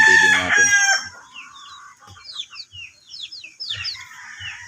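A backyard gold gamefowl rooster crows loudly and close at the start, followed by softer chirps and clucks from birds nearby, with quiet low thumps in between.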